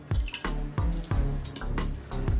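Excess water drips and splashes from a removed Unger HiFlo RO30GC resin filter as it is emptied, a run of close, irregular liquid plops and trickles.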